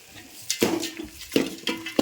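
Onions, peanuts, dried coconut and dried chillies fry in a pan as a spoon scrapes and clatters through them in three or four sharp bursts over a low sizzle.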